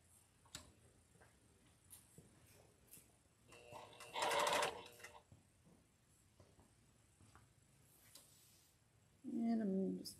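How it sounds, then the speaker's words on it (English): Two short bursts from a sewing machine stitching pink quilt block pieces, a brief whirring run near the middle and another at the end, separated by quiet handling noises and soft ticks. "So I'm just going to sew all of these on."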